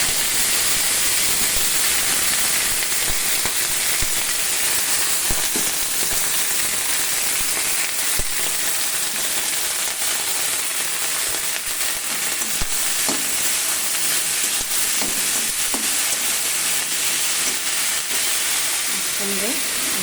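Panch phoron and dried red chillies spitting in hot oil with a loud, steady, dense sizzle and crackle that persists without a break, with scattered sharper pops throughout.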